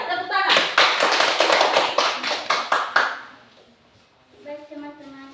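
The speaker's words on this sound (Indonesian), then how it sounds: "Ya, tepuk tangan." Classroom clapping from a group of students, a burst of brisk hand claps lasting about two and a half seconds, then fading into quiet with a voice speaking briefly afterward.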